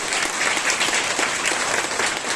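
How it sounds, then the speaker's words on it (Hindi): Loud, dense applause from an audience at a birthday celebration, steady clapping throughout with no voices over it. "जोरदार तालियां बजाइए"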